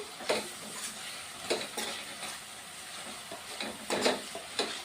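Dried fish curry sizzles and fries steadily in a pan, with a few louder bursts of stirring and scraping spread across the clip; no one speaks.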